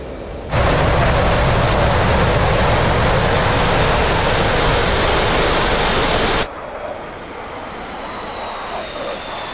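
An F/A-18C Hornet fighter jet in the DCS World flight simulator roars at full throttle, a loud, steady broadband engine blast that abruptly drops after about six seconds to a quieter, lingering whoosh.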